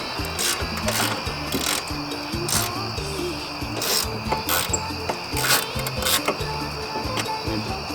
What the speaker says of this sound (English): Use a 10mm socket and ratchet. So I'm going to loosen all 4 first